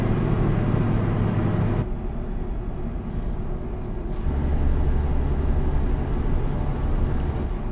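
A MAN TGX truck from 2021 drives in Euro Truck Simulator 2, its engine holding a steady, close, low drone with a short hiss partway through and a faint high whine toward the end.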